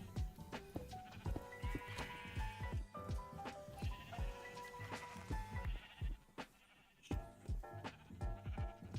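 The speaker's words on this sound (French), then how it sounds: "tu vois les moutons là au-dessus" Sheep bleating in Minecraft, several short nasal bleats overlapping one another in a steady busy stream, some close and loud, others softer, with no voices.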